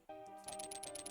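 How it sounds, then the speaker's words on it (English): Rupee pickup jingle from the Zelda: A Link to the Past video game: a bright chiming coin sound followed by a rapid run of repeated high sparkling tones, clear and alone over faint game music. "that's the first real big rupee drop we've had in a while"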